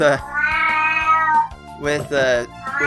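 A pet cat meowing in drawn-out, vocal cries, close and loud, with a couple of shorter mews following a pause.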